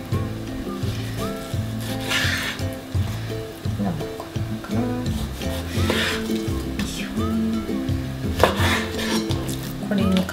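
A knife cuts chicken breast into bite-size pieces on a board, making repeated soft thuds and scraping strokes in an uneven rhythm, close and moderately loud, with no talking.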